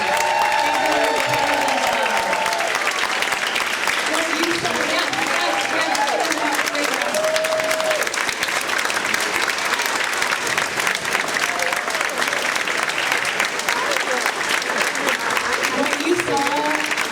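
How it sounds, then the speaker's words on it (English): Sustained applause from a gala crowd fills the room for dancers at a charity dance event, steady and loud throughout, with a few voices and faint cheers mixed into the clapping. "if we can give a big round of applause to all of our dancers"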